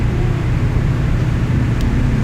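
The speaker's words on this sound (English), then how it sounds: "You can hear all the motorcycle noises right there in the background." Street traffic of cars and motorcycles rumbles outside as a continuous, fairly loud low roar with no distinct passes.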